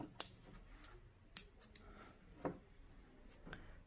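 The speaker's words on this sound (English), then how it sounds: "And now you're going to cut your yarn." Scissors snip through crochet yarn in a few short, sharp clicks spaced apart, close to the microphone in an otherwise quiet room.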